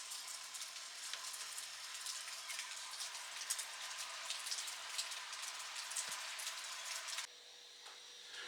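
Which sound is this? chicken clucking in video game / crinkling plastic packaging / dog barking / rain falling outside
rain falling outside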